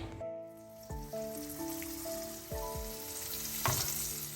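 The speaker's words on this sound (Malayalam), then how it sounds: "ഇനി ഇതിൽ ഡിപ്പ് ചെയ്തിട്ട് നമ്മൾ നേരത്തെ മാരിനേറ്റ് ചെയ്ത് വെച്ചിട്ടുള്ള ഫിഷ് ഒന്ന് ഡീപ്പ് ഫ്രൈ ചെയ്തെടുക്കുകയാണ് വേണ്ടത്" Marinated fish coated in cornflour and rice flour batter deep frying in hot oil, a steady loud sizzle with bursts of crackling as pieces drop in, tonal music playing over it.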